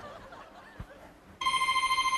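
A telephone starts ringing partway through, after a quiet stretch with a soft thump, then rings steadily in a repeating electronic tone at moderate loudness.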